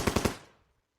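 A quick burst of three machine-gun shots rings out in a Vietnam War tactical video game, each crack close together, then a short fading echo.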